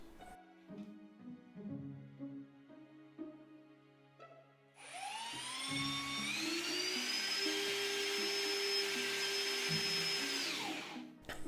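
A Ryobi R18PDBL cordless impact drill drives a screw with a rising whine that holds steady for several seconds, loud and close, after a stretch of lower motor bursts and clicks, with no talking.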